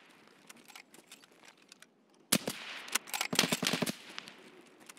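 Gunfire in Escape from Tarkov, PvE mode, starts after a quiet stretch as a loud volley of rapid close shots with dense clustered bursts, then fades into scattered quieter cracks.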